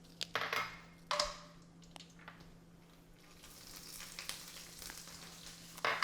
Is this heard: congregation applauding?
no